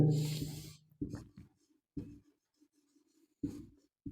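Chalk or marker strokes on a classroom board during an English grammar lesson come in short scratchy bursts. A longer stroke opens the passage, then several brief separated strokes follow with quiet gaps, close and clear, with no talking.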